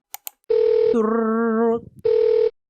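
A telephone being called in a Roblox game: two short clicks, then a steady electronic tone, a warbling ring-like chord, and the steady tone again before it cuts to silence.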